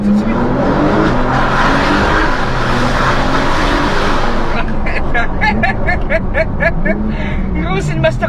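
A Porsche worth about 500,000 euros fires up instantly and revs loudly and steadily, its engine note dropping into sharper pops and crackles later on, with people talking over it.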